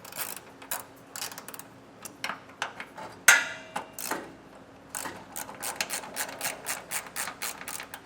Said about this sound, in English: I'm removing these bolts with a 12mm socket